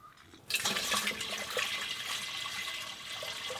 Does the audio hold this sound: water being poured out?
yes